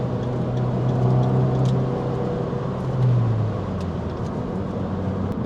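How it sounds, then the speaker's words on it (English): A 2014 Fiat 500 Abarth drives along with a steady droning engine and exhaust note, rising briefly in two swells of revs against constant road noise inside the cabin. "The engine alone and the exhaust coming out of it just make this car so much more fun"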